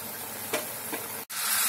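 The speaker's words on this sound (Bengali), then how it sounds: "ঝোলটা ফুটে উঠেছে, আমি এবার ভাজা মাছগুলো দিয়ে দিচ্ছি" Rui fish curry gravy bubbles in a pan: a close, steady sizzling hiss with a couple of soft bursts, a brief break, then the hiss resumes.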